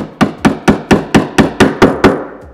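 A hammer drives a screwdriver against metal clamps while a kitchen sink is being fitted, nine sharp, evenly spaced strikes, close and loud, with no voices.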